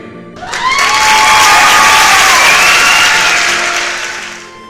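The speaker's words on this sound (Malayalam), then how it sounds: "പിള്ളേര് സെറ്റ് കൈയടിച്ചും ആർപ്പു വിളിച്ചും സന്തോഷം പ്രകടിപ്പിച്ചു" Children clap and cheer at a ring exchange where a couple place rings on each other's fingers, a dense burst of applause with whoops and shouts that swells quickly, holds loud and close, then fades slightly toward the end.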